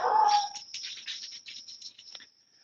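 A little dog outside gives a faint high whimpering yelp, followed by a series of soft thin yips at a distance, with no talk over them.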